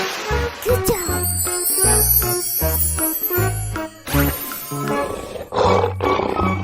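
A lion's roar sounds loud and close in several heavy, rumbling bursts separated by short gaps, with light jingling and chiming effects mixed in.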